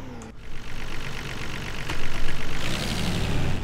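A Nissan Stagea engine in the City Car Driving video game idles with a rough, knocking, tractor-like rumble, then revs up near the end, loud and close.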